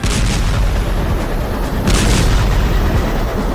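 An Israeli strike on Beirut produces a loud, continuous roaring rumble of explosion noise. The roar swells again partway through and carries on without any talk.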